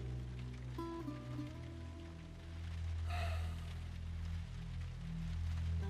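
Rain patters steadily in The Last of Us Part I, soft and continuous beneath game music with sustained tones, a brief brighter splash or gasp-like burst rising midway.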